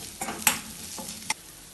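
Turmeric stirred into ginger, garlic and green chilli frying in a pan, a soft steady sizzle with a few sharp scrapes of a spoon, brief and close, no voices.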